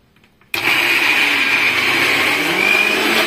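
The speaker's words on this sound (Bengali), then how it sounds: "আর একটা কাঁচা লঙ্কা দিয়ে আমি ডালটাকে ভালো করে পিষে নেব।" A small kitchen grinder switches on abruptly after a brief quiet moment and runs at a loud, steady whine while blending lentils with green chili, ginger and very little water.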